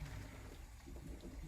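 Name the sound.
draining cooked pasta into a colander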